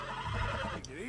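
Brief, close neigh and snort from a saddled horse in Red Dead Redemption 2, over in about a second, with a short bright hoof or tack clink partway through.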